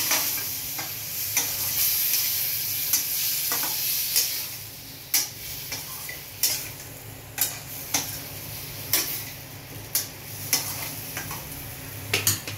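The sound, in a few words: stirring spice paste in frying pan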